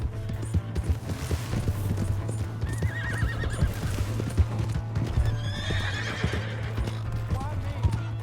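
A horse in Red Dead Redemption 2 gives a loud whinny amid rapid galloping hoofbeats, with voices talking over the clip-clop and a low steady hum underneath.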